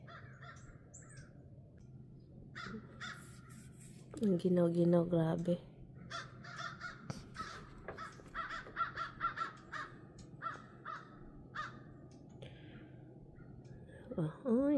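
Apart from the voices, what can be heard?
crow cawing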